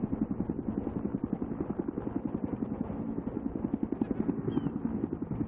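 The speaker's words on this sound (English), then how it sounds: "Hey, I spotted an enemy chopper." Enemy helicopter in the video game Battlefield 3, a steady rapid rotor chop with droning engine throughout, loud and continuous with no talk over it.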